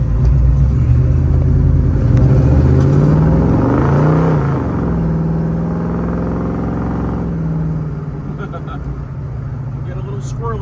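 A 1966 Chevrolet Chevelle with a 468 engine accelerates while driving, a deep rumbling engine note rising in pitch through a gear, then settling into a steady cruise, heard from inside the car.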